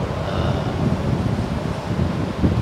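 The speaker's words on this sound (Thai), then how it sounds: "ตอนนี้ลมแรงนะครับเสียงก็อาจจะแรงๆหน่อยนะครับ" Strong wind buffets the microphone beside a condo swimming pool at The Key MRT Phetkasem 48 at night, a steady low roar that fills all of the short stretch with no break.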